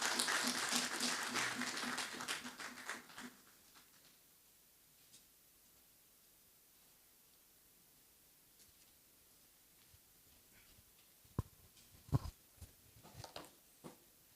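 A keynote audience at an academic freedom dialogue claps for Dr. Carlos Eugenio Monteiro Cardoso, a loud burst lasting about three seconds before dying away into near-silence with a few faint knocks.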